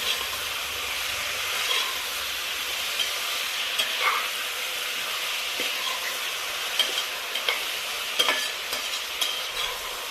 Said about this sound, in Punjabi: ਹੁਣ ਆਪਾਂ ਨੂੰ ਥੋੜਾ ਜਿਹਾ ਟਾਈਮ ਦਵਾਂਗੇ ਪਿਆਜ਼ਾਂ ਨੂੰ ਲਾਲ ਹੋਣ ਤੇ ਘੱਟੋ ਘੱਟ ਆਪਾਂ 15 ਮਿੰਟ ਜਿਹੜੇ ਆ ਪਿਆਜ਼ ਭੁੰਨਾਂਗੇ